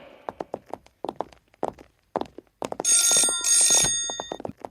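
A telephone rings in an office, one loud, close burst of electronic ringing lasting about a second, set among sharp knocks and other brief sounds.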